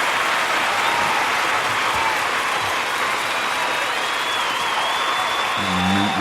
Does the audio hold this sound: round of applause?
yes